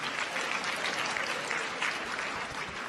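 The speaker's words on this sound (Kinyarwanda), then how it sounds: "aho bari bakoma amashyi." Sustained applause from an audience of Rwandan diaspora members in Maine, a dense, even wash of clapping that holds steady throughout with no break.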